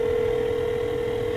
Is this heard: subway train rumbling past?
no